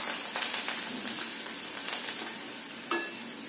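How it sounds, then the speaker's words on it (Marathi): Curry leaves, cumin, asafoetida, garlic and a little coriander sautéing in hot oil for a tempering give a loud, dense sizzle with scattered crackles and a sharp pop near the end. "फोडणी छान परतून घ्यायचं."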